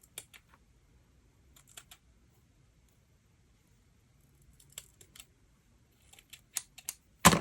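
Scissors trim ribbon ends on a paper craft tag album, giving a few sparse, crisp snips in a quiet room and ending with a louder, closer cut.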